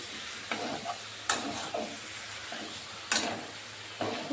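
Spices being stirred through shakoch (stingray) fish masala as it fries in a pan: a steady low sizzle broken by several sharp spoon scrapes and clacks against the pan, with no voices.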